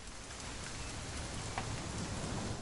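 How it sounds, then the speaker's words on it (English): Rain in the video game What Remains of Edith Finch: a continuous hiss of rainfall with faint scattered drop ticks, steady and unbroken, with no one speaking. "It's gonna rain the whole weekend,"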